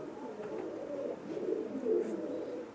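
Imported Teddy pigeons coo softly in a low continuous murmur, quiet and slightly distant, rising and falling a little with no talk.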